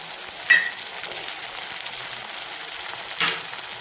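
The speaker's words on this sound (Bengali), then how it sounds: "পেঁয়াজ ভাজা হয়ে গেছে, এবার আদা রসুন লঙ্কার পেস্টটা দিয়ে দেবো।" Ginger, garlic and green chili paste hits hot oil with fried onions in a pan, giving a steady crackling sizzle with two sharper bursts as it is added and stirred, close and moderately loud without speech.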